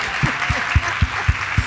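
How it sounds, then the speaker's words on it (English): Applause from a meeting audience at an advisory board gathering, a steady wash of clapping with several soft low thumps recurring at an even pace, fairly close and moderately loud, with no talking. "Give him a round of applause"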